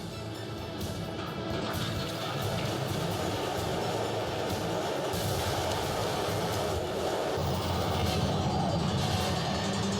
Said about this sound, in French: Maintenant, go prendre un train, en espérant que celui-ci ne déraille pas.